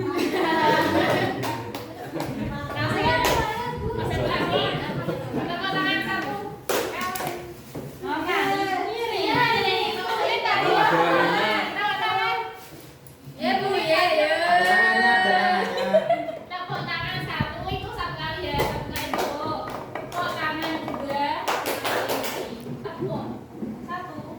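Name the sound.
children clapping hands in a classroom clapping game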